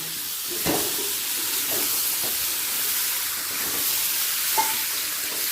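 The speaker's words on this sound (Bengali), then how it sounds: "আলু আর মটরশুঁটিটা মশলার সাথে ভালো করে কষিয়ে নেব" Potatoes and peas frying in spice paste in a pan over a medium-high gas flame for a Bengali pea and potato curry, a steady soft sizzle and hiss with a few faint stirring scrapes, no talking.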